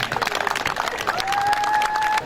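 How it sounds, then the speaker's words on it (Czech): A crowd at a village tractor competition applauds the prize-winning girls with dense, continuous clapping and some cheering, while a thin steady whistling tone rises behind it partway through. "Potlesk pro holky."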